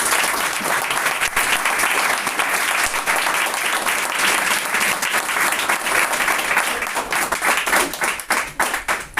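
A church congregation breaks into strong, sustained applause for several seconds, dense clapping from many hands filling the room, thinning into a few scattered claps at the end.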